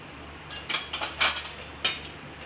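A spoon scraping and clinking in a pan while stirring spiced sweet potato, several light irregular metallic taps and scrapes, close and clear.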